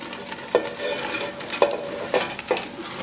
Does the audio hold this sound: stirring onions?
yes